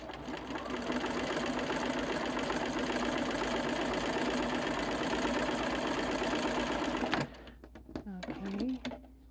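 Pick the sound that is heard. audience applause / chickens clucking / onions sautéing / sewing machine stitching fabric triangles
sewing machine stitching fabric triangles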